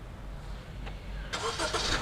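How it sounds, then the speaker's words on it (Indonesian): A car's engine cranks and fires up after a remote start, the broadband rumble of ignition arriving suddenly over a quiet, low idle-like hum, heard alone without talk. "Ya, dan mesin otomatis menyala serta juga AC otomatis menyala."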